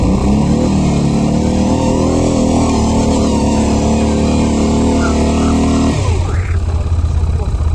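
An ATV engine revs hard and steadily in sand, loud and close, straining under load before the pitch drops and shifts near the end.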